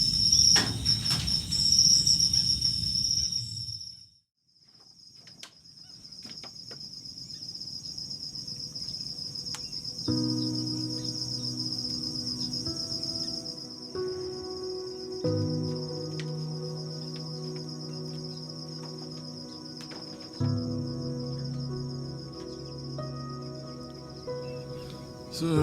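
Night insects at Lake Tempe in Sulawesi, Indonesia, around a floating house keep up a steady, dense high-pitched chirring throughout, with lower tonal sounds joining partway through.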